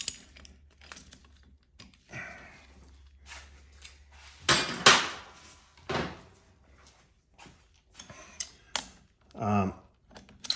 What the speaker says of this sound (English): And then we can use our ratchet.